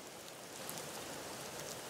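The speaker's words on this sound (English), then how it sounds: "which is like a recording of a rain outside, which can give some character and warmth to your track" Ambient recording of rain falling outside, a steady, soft, even hiss with no other sounds, the kind laid low under a melodic house track.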